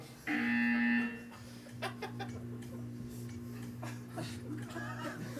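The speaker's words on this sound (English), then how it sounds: "When you hear the buzzer, stare at the art." A single loud electronic buzzer tone from a video game sounds for about a second, followed by ticking clicks and light chuckling in the background.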